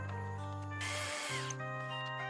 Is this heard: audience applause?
no